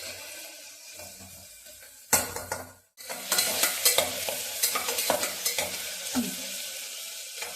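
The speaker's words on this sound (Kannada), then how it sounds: "ನಾನು ಎಣ್ಣೆಯಲ್ಲಿ ಸ್ವಲ್ಪ ಫ್ರೈ ಮಾಡ್ಕೊಳ್ತೀನಿ ಕಾಳುಗಳನ್ನ" Soaked legumes fry in hot oil in a home kitchen pan, a steady sizzle broken by loud scraping and clattering strokes as a spoon stirs them repeatedly, close up and without talk.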